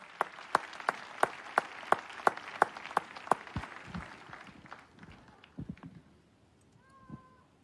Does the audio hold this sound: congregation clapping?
yes